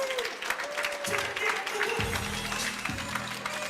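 Spectators at a darts tournament final applaud steadily after the winning leg, a continuous patter of clapping from a modest crowd, with a few tonal electronic sounds and faint voices mixed in.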